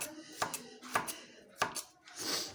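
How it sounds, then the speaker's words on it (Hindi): A knife chops garlic cloves into small pieces on a board, four sharp separate cuts spaced about half a second apart, close and clear with no talking. "लहसुन को हम काट लेंगे छोटे छोटे पीस में इस तरह से"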